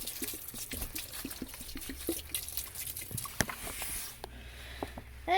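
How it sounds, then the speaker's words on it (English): Water is poured onto potted watch chain succulents in a grow tent, producing a run of soft drips and trickles that ends in a brief splashing pour, close and faint. "I am going to give this guy some water because I think the watch chains are thirsty."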